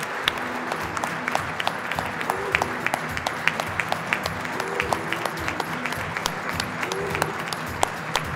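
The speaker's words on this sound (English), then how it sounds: "Please join me in a round of applause for Ms." Applause from an awards ceremony audience fills the whole stretch, a steady dense patter of many hands clapping at moderate distance with no talk over it.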